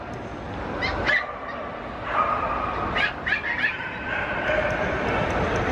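Small dogs at a dog show give short yips and barks in scattered bursts over a busy crowd murmur, with someone talking over them.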